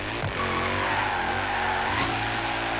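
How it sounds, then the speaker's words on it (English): Alfa Romeo 8C exhaust note in Forza Horizon 3, a steady, loud engine drone with harmonic layers and a couple of brief rev surges, continuous throughout with no talk. "I love the exhaust note of this"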